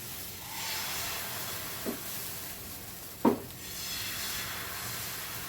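Salt water splashed onto a hot dosa griddle gives a steady, close hiss, with two short sharp bursts of sizzle partway through and no talking.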